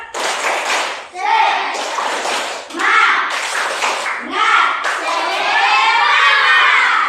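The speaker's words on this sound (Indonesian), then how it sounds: "Oke, tepuk semangat." A classroom of students stands and performs a rhythmic spirit clap in bursts, hands striking in patterned sequences mixed with children's shouts and cheering voices, loud and close, filling the room for several seconds.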